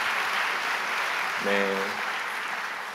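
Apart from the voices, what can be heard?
congregation applauding in welcome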